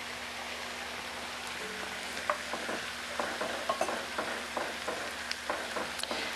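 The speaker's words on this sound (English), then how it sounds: "We're going to add 2 packs of frozen corn." Frozen corn goes into a pot of chili and is stirred. Soft sizzling and a rain-like patter run beneath repeated spoon scrapes and clicks, all close and fairly quiet.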